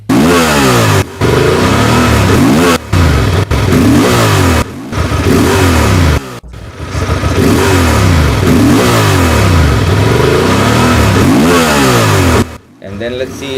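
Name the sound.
Honda Transalp motorcycle accelerating on throttle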